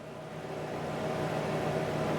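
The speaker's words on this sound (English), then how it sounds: "I have a heater running in the background" A space heater runs in the background, giving a steady, even hum and broadband hiss that holds unchanged for the whole short stretch with no talk.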